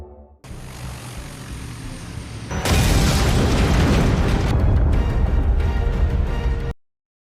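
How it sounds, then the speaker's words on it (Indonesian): An airplane explodes in a TV series, a sustained roaring rumble that jumps into a louder, dense blast partway through, holding at full intensity before cutting off abruptly. "Setelah pesawat yang ditumpangi Valkyrie meledak, Tom, Sasha, dan Wolfman diserang oleh pasuk"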